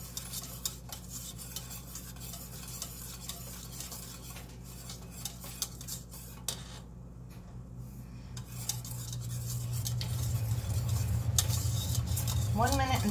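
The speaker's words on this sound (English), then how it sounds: "Remember to scrape the sides." Spoon scraping the sides of a pot while homemade chocolate sauce is stirred on the stove, a steady close scraping and clinking throughout, with a low heating hum growing louder toward the end.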